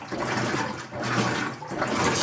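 A high-efficiency washing machine sprays water onto towels during its rinse cycle, a steady rushing, hissing wash of water that keeps on for the whole stretch with small surges in level.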